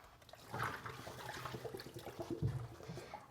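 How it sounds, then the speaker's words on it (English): Tap water runs and splashes at close range while a plastic food container, soaked in bleach solution, is rinsed out in a sink; steady and fairly quiet, with no talking. "I'm going to go ahead and rinse it out."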